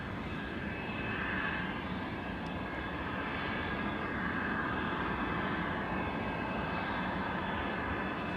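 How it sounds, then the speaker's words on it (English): A Boeing 747 jet takes off at Anchorage, producing a continuous broad engine roar that holds steady and fairly loud throughout, heard from a distance with no voices. "747 from its approximate takeoff speed of 200 miles per hour"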